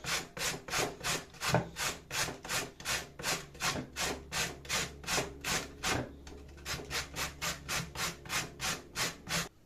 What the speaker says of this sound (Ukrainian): беремо морквину, натираємо на великій терці